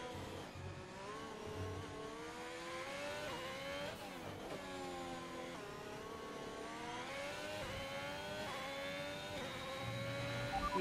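A race car engine in a simulated race at Abu Dhabi revs steadily, rising and falling through gear changes in a continuous, fairly quiet whine with no voices.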